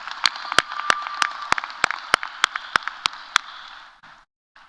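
Applause from a commencement ceremony audience, a dense steady wash of clapping with a few sharp individual claps standing out, continuing for several seconds before fading out abruptly.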